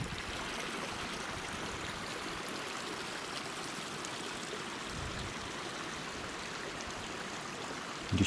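A small mountain stream flows steadily in a continuous close wash of trickling water on a high-country hiking loop, with no voices.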